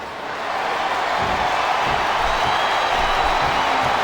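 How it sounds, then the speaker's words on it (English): A wrestling arena crowd in WWE SmackDown vs Raw 2007 roars and chants in a dense, loud, continuous wash of voices. "the crowd has come alive tonight with a chant"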